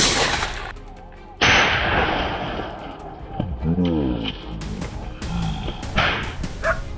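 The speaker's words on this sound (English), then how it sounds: "One perfect shot, clean and precise." A hunter's gunshot aimed at a wild hog in Texas cracks out once as a sudden loud blast near the start, followed by rumbling noise and voices talking afterward.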